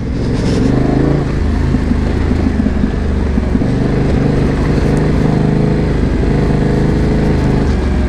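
Yamaha Tenere 700 and XC800 motorcycles ride through a gravel pit, with a steady, loud engine drone running the whole time and slight shifts in revving.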